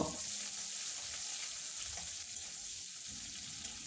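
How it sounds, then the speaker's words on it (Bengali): Green chillies and onion frying in hot white oil, a steady broadband sizzle that runs close and fairly loud for the whole stretch, with no voices. "পেঁয়াজ আর কাঁচা লঙ্কা কয়েক সেকেন্ড ভেজে নেব"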